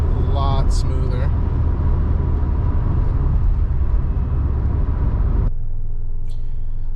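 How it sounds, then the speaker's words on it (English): Engine of a cheap daily-driver car pulling steadily through smooth gear changes, a loud continuous low rumble that drops abruptly near the end, with brief voice sounds at the start. "It's gone through all the gears nice and smooth."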